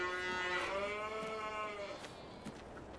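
A cow in Farming Simulator 22 gives a single clear, sustained moo that fades out after about two seconds, followed by faint scattered clicks in a quiet farm setting.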